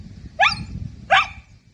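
A dachshund gives two sharp, close barks about half a second apart, loud and distinct over a low background rumble, with no talking.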